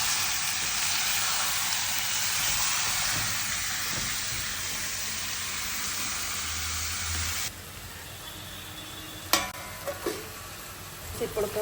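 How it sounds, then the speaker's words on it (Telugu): Chicken pieces sizzle and fry loudly in a hot pan for a steady stretch, then the hiss drops sharply to a quieter simmer, with a few scraping stir clatters from a spoon near the end. "తర్వాత దీంట్లో చికెన్ వేయాలన్నమాట. మంచిగా కలుపుకోవాలి"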